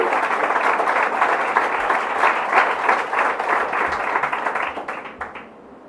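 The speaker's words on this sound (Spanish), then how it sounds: "De un aplauso al Señor Jesús" A church congregation claps and cheers in praise, steady, loud applause that carries on for several seconds, then tapers off and fades out at the end.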